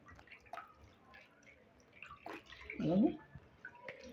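Sweet corn being rinsed in water in a home kitchen gives a short, soft splash and slosh near the end, faint and close, amid quiet talk.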